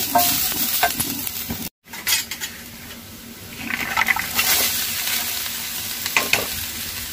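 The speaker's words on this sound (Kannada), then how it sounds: "ಈಗ ಕಾಳನ್ನು ಹಾಕಿ ನೀಟಾಗಿ ಗೋಲಿಸ್ಕೊತಾ ಇದ್ದೀನಿ." Sprouted legumes being stirred in a pan over a low flame, a close sizzle with repeated scraping strokes and a brief break in the sound partway through.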